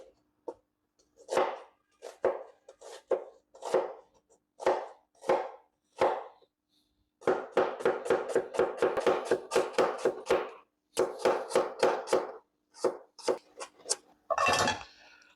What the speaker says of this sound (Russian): лук можете нарезать мелким кубиком